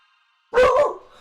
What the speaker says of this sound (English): you don't gotta bark at everybody you see